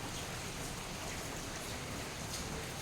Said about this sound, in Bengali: বাইরে তো বৃষ্টি হচ্ছে বেশ ভালো লাগছে